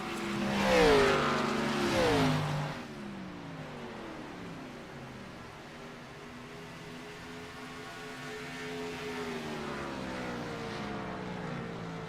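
A race car engine drones at speed on an oval track during a caution period, starting with a louder rising pass and settling into a steady, moderately distant hum with shifting pitch.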